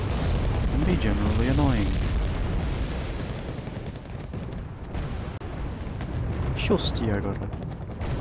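Bombs exploding in the strategy video game WarGame AirLand Battle: heavy, rumbling blasts rolling through the game audio, with someone talking over them.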